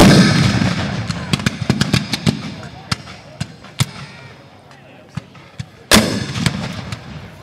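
Civil War reenactment battle with repeated sharp gunfire reports, some close and loud, others more distant, including a heavy boom near the end, under faint voices and crowd noise.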